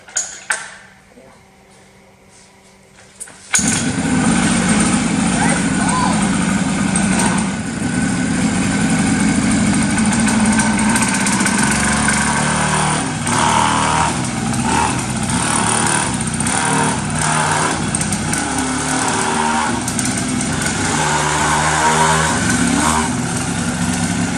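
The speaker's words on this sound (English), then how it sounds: "let's see if I can pull it and see if I can get it running" A 50cc ATV engine is pull-started after a few quiet seconds of small clicks. It catches abruptly and keeps running loud and close, with a steady buzzing drone that rises and falls slightly with the throttle.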